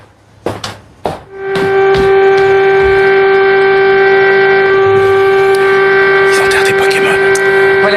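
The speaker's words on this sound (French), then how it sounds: "Vous entendez ces sirènes qui ont résonné pour rendre hommage aux 3326 morts déjà recensés dans le pays." Memorial sirens wailing across China in tribute to epidemic victims, a sustained loud steady tone following a couple of sharp knocks, with faint voices underneath.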